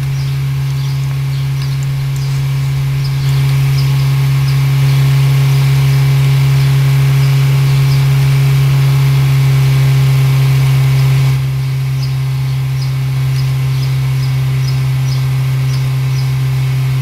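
Car engine droning steadily while driving on a highway, a loud low constant hum with road and cabin noise and no audible talk.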